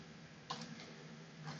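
Computer keyboard being typed on, a few faint, sparse key clicks in a quiet room, with one slightly sharper tap partway through and a soft low hum underneath.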